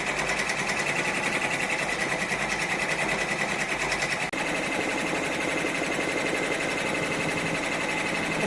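An embroidery machine runs at about 700 stitches per minute, sewing a butterfly design onto a jacket back. Its steady, rapid, loud mechanical stitching continues throughout with one brief break midway.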